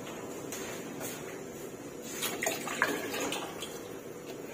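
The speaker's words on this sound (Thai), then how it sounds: "จะเติมน้ำลงอีกหน่อยนึง" Water is poured into a pot of stewing pork bones for braised pork with eggs, a soft, quiet splashing and trickle that swells briefly in the middle.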